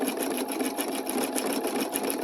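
Sewing machine running steadily while machine-sewing a blanket stitch on appliqué, giving a fast, even mechanical whir with a rhythmic needle patter, close and continuous, with no talk over it.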